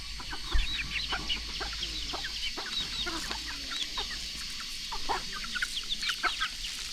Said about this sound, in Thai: ไก่รวมกันนี่นะ